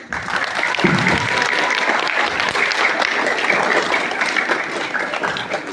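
An audience applauds after a middle-division inter-house speech competition at a school, with sustained, dense clapping from a large crowd in a hall that stays steady throughout.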